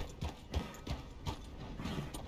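Horse hooves clip-clop at an unhurried pace in Red Dead Redemption 2, a handful of soft, evenly spaced thuds close by with low ambient game sound around them.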